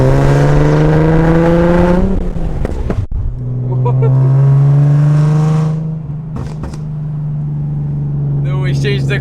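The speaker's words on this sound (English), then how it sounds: "we're driving on the road" A turbocharged Nissan 370Z engine with a 600 whp build and stage 4 six-puck clutch drones loudly with steady harmonic tones, rising and shifting as it revs and changes gear, with a clunk midway and talking under it.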